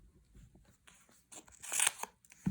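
A strip of cover roll tape being cut with scissors, a few faint crisp snips and crinkles that swell into a louder cut near the end.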